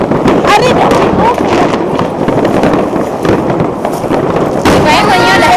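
A fireworks display in Copenhagen, Denmark: loud, dense crackling and popping bursts go on without a break, with wind buffeting the microphone and people talking throughout.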